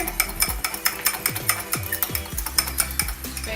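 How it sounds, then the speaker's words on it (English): A spoon stirs raspberry syrup and balsamic vinegar together into a sauce, scraping the bowl in steady, rhythmic strokes about every third of a second, close and clear with no talking. "Now just stir it together."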